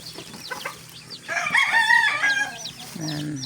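Chickens and chicks cluck and squawk close by, with one louder, drawn-out call in the middle and soft peeping and clucking around it.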